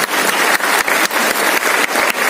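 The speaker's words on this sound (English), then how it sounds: "let us give a big round of applause" Loud, close round of applause at a food science conference inauguration, dense clapping with a slightly rhythmic surge through the whole stretch and no voices over it.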